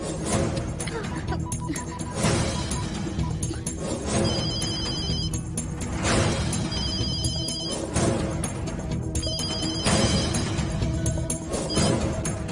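A telephone rings in repeated electronic trill bursts at a steady rhythm, mid-distance indoors, with a faint background bed and occasional voices around it.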